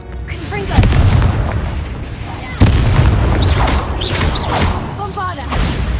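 Fiery spell blasts from a Hogwarts Legacy battle, with loud booming bursts near 1 and 2.6 seconds over a dense roar of combat effects, a voice speaking amid the din.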